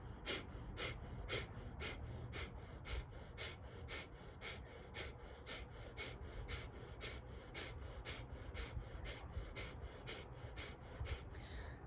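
Steady rhythmic deep breaths during a breathing exercise, each inhale and exhale a soft airy rush repeating at an even pace for about twelve seconds, quiet and close, with no speech.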